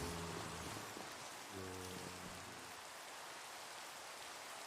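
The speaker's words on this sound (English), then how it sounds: "Oh, now it's raining." Steady rain falls in the video game Minecraft, a dense, even hiss that fills the whole stretch, with a faint low tone fading out in the first half.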